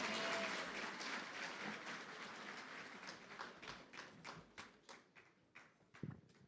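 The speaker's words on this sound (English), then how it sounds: "Please, a round of applause for him again, please." An audience at an awards livestream event applauds; a full wash of clapping thins out and slows into a handful of distinct, spaced claps as it fades.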